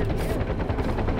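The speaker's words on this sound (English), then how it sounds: "Is there a helicopter?" Helicopter arriving in the video game Far Cry 4, a pulsing rotor chop close and loud with possible gunfire mixed in, over about a second.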